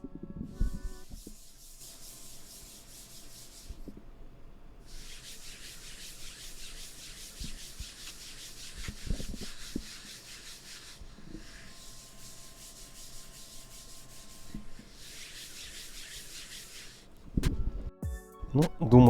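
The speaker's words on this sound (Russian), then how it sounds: "Сейчас я попробую вам передать с помощью звуков ощущение текстуры от Сая и от Veil." A gaming mouse sliding back and forth over textured glass mouse pads, long even scratchy rubbing strokes with short pauses between them, close and quiet, ending in a few louder knocks.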